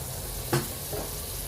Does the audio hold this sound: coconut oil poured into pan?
yes